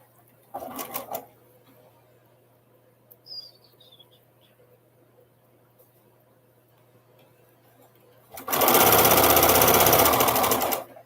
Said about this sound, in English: we're sewing these on with your basic 1/4 inch seam